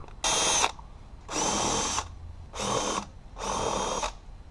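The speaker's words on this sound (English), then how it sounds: "Now I can go ahead and drive in some 3-inch screws." A drill runs in four separate bursts, each lasting about half a second to a second with short pauses between, driving 3-inch screws into an exterior door threshold one after another.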